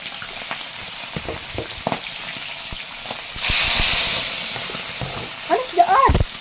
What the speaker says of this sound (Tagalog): simulan na natin ilagay ang isda sa kawali